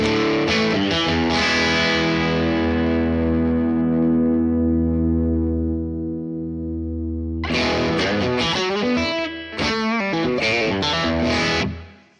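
Electric guitar played through a Neural DSP Morgan amp plugin with the bass switch engaged: a loud, driven chord rings out and sustains, then a run of rhythmic chords and picked notes follows, with no talking.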